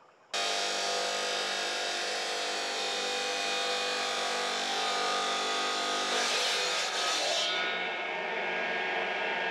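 A diamond saw cuts a drill core sample in a loud, continuous grinding whine that holds steady for several seconds, then shifts in tone and cuts off abruptly near the end.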